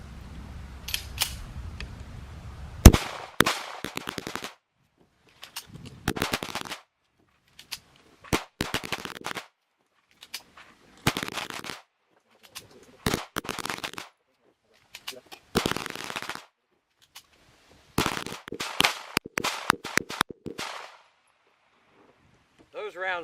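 A Tisas BR9 pistol fitted with an FN Browning extractor fires a series of sharp, close gunshots in irregular bursts and single rounds, with brief pauses between strings.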